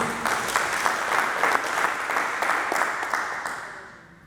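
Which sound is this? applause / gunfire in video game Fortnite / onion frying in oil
applause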